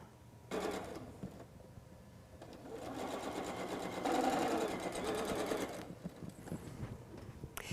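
A sewing machine stitches the last row of a quilt block for a whimsical wall hanging, running in a steady rapid whir with brief pauses and speed changes, close and moderately loud, with no talking.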